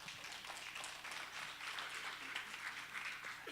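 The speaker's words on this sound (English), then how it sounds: "Give her a round of applause." An audience at a chamber of commerce panel discussion claps for a speaker. The applause is a soft, fairly distant patter of many hands that stays steady throughout.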